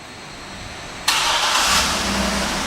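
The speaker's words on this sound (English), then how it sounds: "the car turns right on" A 2012 GMC Yukon XL AWD engine cranks by remote start and catches at once, then settles into a steady idle hum with no one speaking.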